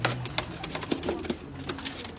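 Racing pigeons in a fancier's loft coo and rustle close by, with soft repeated calls and brief wing flutters over a busy background.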